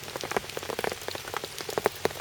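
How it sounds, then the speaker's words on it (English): Rain falling outdoors at a fishing lake, a steady patter of close drops on nearby surfaces with scattered louder individual splats, continuous throughout with no voices. "So the rain's still going."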